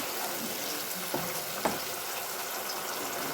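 Boiled olives sautéing with spice paste and a splash of water for a morola fish sour curry, a loud continuous sizzle close by, with a couple of sharp scraping knocks.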